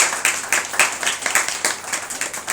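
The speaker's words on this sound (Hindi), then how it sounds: "कलीसिया ताली बजा के इनका स्वागत करेगी" A church congregation clapping to welcome first-time visitors, a brief burst of loosely rhythmic hand claps from a modest group, close and fairly loud.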